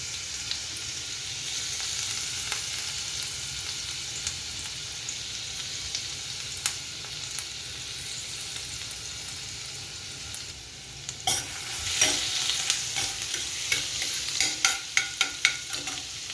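Ginger and garlic frying in plenty of hot oil over high heat for Schezwan noodles: a steady sizzle close by, with sharper crackles and spatula scrapes in the last few seconds and no voices.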